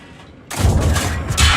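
A tank cannon fires in the World of Tanks video game: quiet hum, then one sudden loud boom with a heavy low thump and a rolling tail that swells again near the end.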